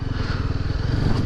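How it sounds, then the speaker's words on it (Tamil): A Yezdi Adventure motorcycle loaded with heavy luggage runs on a highway under engine braking, its steady pulsing engine thrum close and loud throughout, with no one talking. "ஃபுல்லாக இன்ஜின் பிரேக்கிங்லாம் ஓடிக்கிட்டு இருக்கு வண்டி."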